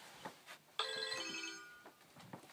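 A telephone ringtone trills in one continuous burst of bright electronic ringing lasting about a second, with soft room noise and faint thumps before and after.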